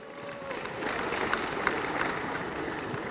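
Audience applause at a reinsurance awards ceremony as a winner is named, a steady broadband patter of many hands clapping at moderate volume, holding evenly for a few seconds.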